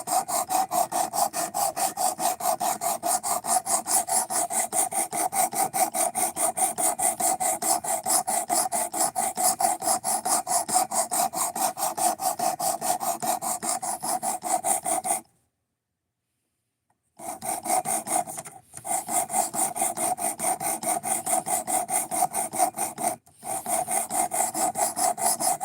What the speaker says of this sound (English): Like I'm grinding away at the top of the bevel